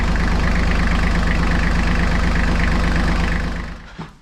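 Iseki TLE3400 compact tractor diesel engine idling after an oil service, a steady close rhythmic chug that holds evenly for several seconds before fading out at the end.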